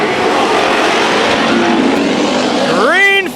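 Race cars roar around the Bakersfield Speedway oval during a heat race, a loud sustained engine drone of several cars together, then one engine revs and whines sharply up in pitch as it passes close near the end.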